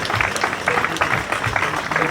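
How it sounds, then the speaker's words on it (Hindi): An audience at the opening of a junior boys' national handball championship claps to welcome Chief Minister Rekha Gupta, a short burst of steady, crowded applause. "जोरदार तालियों से मैडम का स्वागत करेंगे"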